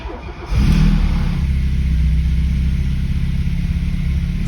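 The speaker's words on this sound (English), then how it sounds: "I think there's nothing left for us to do but actually start the car." A Porsche 924 engine cranks and catches after a brief pause, then settles into a loud, steady running rumble with slight revving, close by and without talk.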